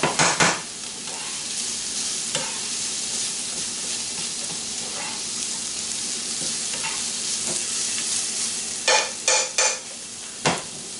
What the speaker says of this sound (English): We're going to cook that for another minute or so. Basically just till that garlic's aromatic.